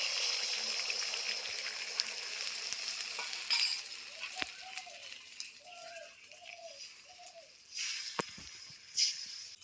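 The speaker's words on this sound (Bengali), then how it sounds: "আমি এখানে একটা ডিমের অমলেট করে নেবো একটু পেঁয়াজ আর লঙ্কা কুচি দিয়ে ডিমটা মাখিয়েছি" An egg omelette mixed with chopped onion and green chilli fries in a pan with a soft continuous sizzle, punctuated by a few light utensil taps and brief louder spatters.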